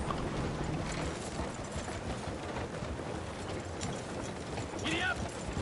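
Horse hooves clip-clop steadily in Red Dead Redemption 2, a continuous mid-distance rhythmic patter mixed with creaking tack and faint voice-like sounds in the background.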